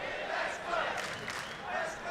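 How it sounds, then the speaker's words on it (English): An MMA event crowd cheers and shouts for a fighter, a moderately faint, distant swell of voices that rises and falls in waves. "Crowd starting to get behind Frank the Tank here."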